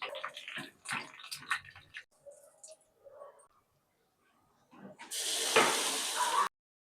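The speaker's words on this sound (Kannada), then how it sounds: "ಇವಾಗ ಇದಕ್ಕೇನೆ ಸ್ವಲ್ಪ ಕರಿಬೇವು ಸೊಪ್ಪನ್ನ ಹಾಕೊಳ್ಳೋಣ" Curry leaves hit hot oil with a sudden loud, bright sizzle lasting about a second and a half, following a stretch of speech.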